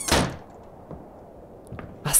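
A door slams in the horror video game Candles, opening with a heavy thud and followed by fainter knocks and a sharp clunk at the end, loud and close with no speech.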